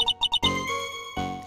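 A ringing phone in the game Ace Attorney 3: four quick bright electronic chimes in a rapid rhythm, followed by a sustained musical tone, loud and clear with no talk over it.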